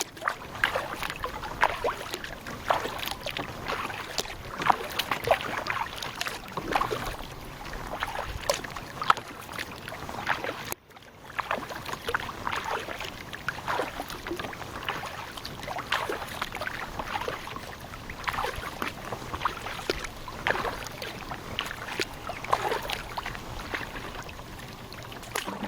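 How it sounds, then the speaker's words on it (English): Kayak paddling on the Nashua River gives a continuous run of watery splashes and drips from the blades, close and fairly quiet, with no talk. "I've been paddling for 20 minutes."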